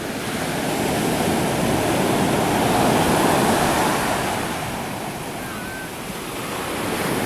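Pacific Ocean surf surges up a beach at Brookings, Oregon, a continuous loud wash of breaking waves with swelling and easing rushes and some wind buffeting the microphone.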